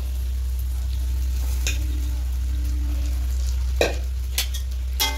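Vegetarian fried rice with egg, cashews and raisins is stirred in a hot pan, with a steady sizzle broken by a few sharp spatula scrapes and knocks near the end.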